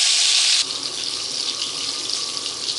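Dried ghee fish (nei meen karuvadu) frying slowly in oil over a low flame gives a steady, close hiss of sizzling that is louder for the first half second, then settles into a softer, even crackle.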